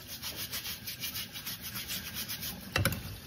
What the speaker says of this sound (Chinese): 先把生蚝上面的泥沙给它清洗掉